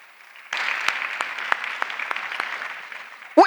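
A church congregation claps in steady, dense applause at a French-language worship service, the sound rising suddenly and holding for several seconds before a voice cuts in at the end.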